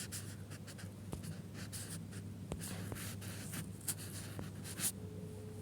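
Numbers being written by hand during a percentage maths lesson, close scratchy pen strokes in quick irregular bursts over a steady low hum.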